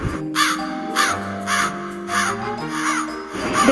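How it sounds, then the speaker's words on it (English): A crow caws repeatedly in a steady series of harsh calls, close and fairly loud, set over a soft sustained musical backing within a children's fable about crows and owls. "the minister began to caw feebly to attract the attention of the king of owls."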